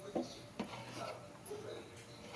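A spoon stirs rice flour batter, made for crispy rice and sago vadiyalu, in a pan on high heat, giving quiet scraping rubs and a few soft metallic clinks against the pan's side.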